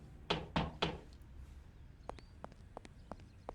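Three loud knocks on a door come up close at the start, followed by a series of lighter, quicker taps and clicks.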